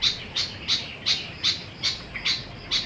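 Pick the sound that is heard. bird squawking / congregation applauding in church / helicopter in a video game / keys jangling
bird squawking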